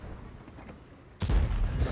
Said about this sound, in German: Dachte, ich könnte hier den Patton-Tank mit einem HE-Schuss in die Seite oder ins Heck tracken